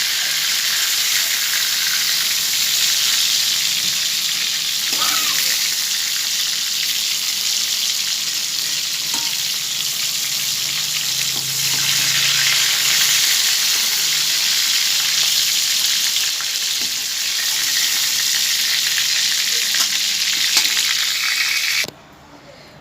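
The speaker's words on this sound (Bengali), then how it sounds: "পটলগুলো ভাজা হয়ে গেছে, আমি এখন তুলে নেব পটলগুলো।" Pointed gourd (potol) frying in oil in a wok, a steady loud sizzle with broadband crackle running continuously, a few soft stirring scrapes, then cutting off abruptly near the end.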